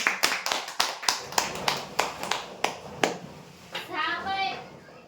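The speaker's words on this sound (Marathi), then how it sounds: "जोरदार टाळ्या होत्या" Loud applause from a crowd at a prize draw announcement, coming in quick bursts of clapping that fade out before a voice starts speaking near the end.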